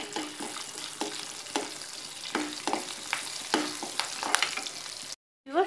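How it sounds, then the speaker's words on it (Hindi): Mustard seeds, cumin and curry leaves crackle and sizzle in hot oil in a kadai, with repeated stirring scrapes over a steady fry, close and free of speech, ending abruptly. "तेल हमारा गरम हो गया है, इसमें राई, जीरा और कड़ी पत्ता डाल देंगे हम"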